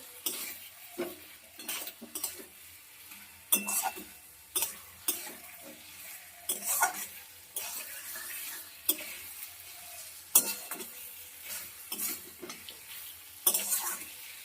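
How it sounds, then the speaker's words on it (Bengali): Eggs coated in salt and turmeric stirred into an oily fried-onion masala for Bengali egg curry, giving soft sizzling under repeated close spoon scrapes and occasional clinks against the pan over a long stretch. "এই যে লবণ হলুদ মাখানো ডিমটা দিয়ে দিলাম দিয়ে একটু ভালো করে নাড়াচাড়া করে নেবো"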